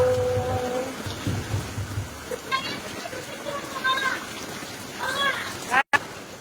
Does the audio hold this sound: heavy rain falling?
yes